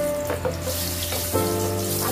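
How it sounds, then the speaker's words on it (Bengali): Cashew nuts frying in hot oil in a home kitchen, a steady close hiss and bubbling sizzle running throughout the short stretch, alone without talk. "আগে প্রথমে আমি কাজু বাদামগুলো ভেজে নিচ্ছি।"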